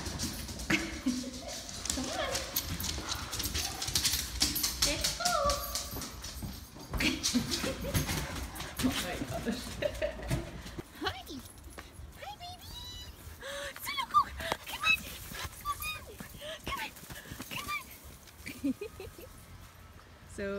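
Puppies whimper, yip and scuffle close by in a busy tumble of small squeaks and movement, with a person speaking now and then.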